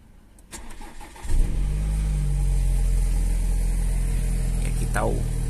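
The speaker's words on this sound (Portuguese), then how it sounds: "Vamos ligar ela para ver o ronco." A 2021 BMW Z4 sDrive30i starts up: a short starter whir, then the engine catches with a loud rise in revs and settles into a steady, deep idle close by.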